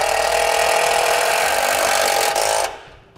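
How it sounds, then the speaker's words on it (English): A power driver sinks a self-tapping screw into the frame of a 2012 GMC Savana van, a loud sustained whirring buzz lasting under three seconds before cutting off abruptly, no speech. "we'll attach it to our frame with the provided self-tapping screw"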